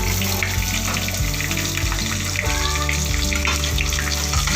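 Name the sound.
onion frying in oil with cumin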